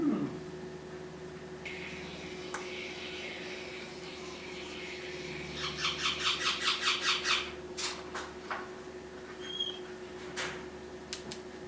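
A young Triton cockatoo squawks in bursts: a rapid run of harsh repeated screeches midway, then scattered sharp calls, over a steady low background hum.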